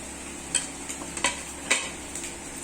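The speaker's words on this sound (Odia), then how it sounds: "ଏବେ ମସଲାକୁ ପ୍ରସ୍ତୁତ କରିବା ପାଇଁ ଭଲ ଭାବରେ କଷି ନେବା।" Spice masala of chilli powder, turmeric and curry powder stirred and fried in a pan, with soft scraping strokes of a spoon repeating every half second or so over a low background sizzle.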